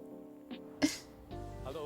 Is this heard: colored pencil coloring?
no